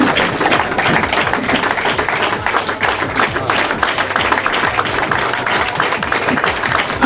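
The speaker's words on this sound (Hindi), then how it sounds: "जोरदार तालियों से स्वागत करें प्लीज।" A crowd at a Sadar Bazaar gathering in Delhi welcomes a new zonal chief with loud, continuous clapping, close and dense, mixed with general crowd noise and some voices underneath.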